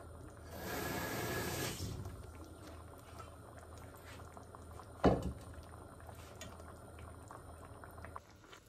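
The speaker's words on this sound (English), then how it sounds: "This has been boiling and you can see it is now" A pot of matki (moth beans) boils on the stove, with a steady soft bubbling and simmering that swells into a louder hiss early on, followed by a single sharp clunk partway through.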